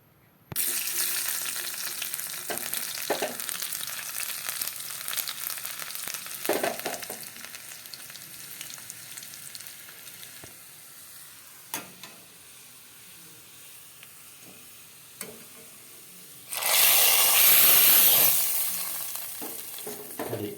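Garlic frying in a couple of spoonfuls of oil for a tempering, a steady close sizzle with occasional stir clicks, swelling into a louder hissing burst near the end.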